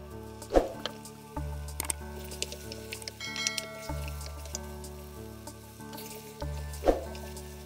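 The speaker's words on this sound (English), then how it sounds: "I fry my onions, green peppers and mushrooms first." Onions, green peppers and mushrooms frying in a pan, a faint continuous sizzle under background music, with a couple of louder stirring clatters.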